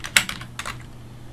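A few quick keystrokes on a computer keyboard, soft close clicks in a short burst, during hands-on computer lab work.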